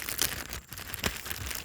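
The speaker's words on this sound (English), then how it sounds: "you can see that I put them in a plastic bag" Seeds stored in a plastic bag give off a near, dry crinkle and rustle of thin plastic in uneven bursts, with brief quieter gaps between handlings.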